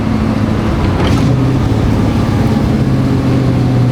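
A muscle car engine idles and runs steadily at close range, a continuous deep rumble with a faint rise in revs partway through, no talking over it.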